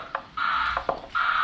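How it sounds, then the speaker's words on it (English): An Amazon delivery truck's backup alarm beeps repeatedly nearby, a rough, buzzy tone in long pulses broken by short clicks, heard alone without talk. "Backup alarm doesn't sound so good."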